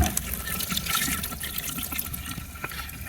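Water running from a sink faucet while a part is washed off, a steady close splashing gush for a few seconds, with no talk.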